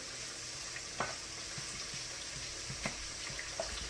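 Fish and onions fry in butter in a pan, a soft, steady sizzle with a few faint clinks on top, heard quietly with no one speaking.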